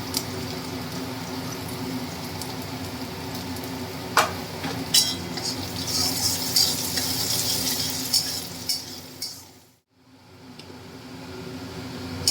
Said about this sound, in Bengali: পেঁয়াজটা লাল লাল করে ভাজা হয়ে গেছে এবার আমি আদা রসুন কুচিটা দিয়ে দেবো